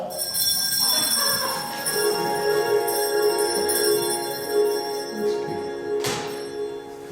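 An answering machine sounds its bell tone, a bright ringing with sustained harmonic overtones that hold steady for several seconds, followed by a brief louder strike near the end.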